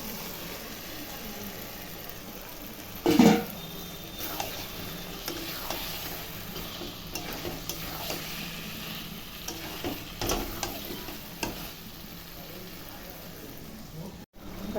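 Marinated chicken goes into a pan of oil and yogurt for dopiaza and is stirred, giving a quiet sizzle with intermittent scraping and knocks of the spoon against the pan, close by and soft.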